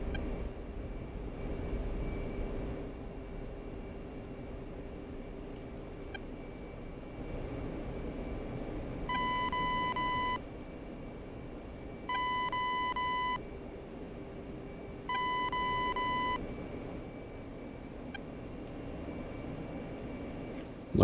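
F-15C jet engines droning steadily in the DCS flight simulator during a formation training flight, a constant whine and rumble with three evenly spaced cockpit warning tones sounding over it.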